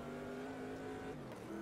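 The engine of a Corvette C3 in the racing game Automobilista 2 roars steadily at high revs, a loud, continuous buzzing drone with a slight pitch shift near the end and no talk over it.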